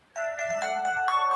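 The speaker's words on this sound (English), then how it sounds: "Oops, sorry, that's my alarm." A phone alarm rings up close, a bright repeating electronic melody that starts abruptly and plays on alone.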